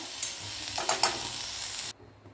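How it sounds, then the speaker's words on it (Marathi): Bitter gourd pieces fry in oil in a pan, a steady sizzle with a few clinks of stirring, then the sizzle cuts off abruptly near the end. "मी कारल्याच्या पुडी भाजून घेतलेल्या आहेत तेलामध्ये"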